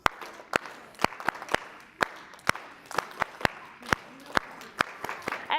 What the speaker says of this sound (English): Now how many claps are we going to do? 5 whole claps.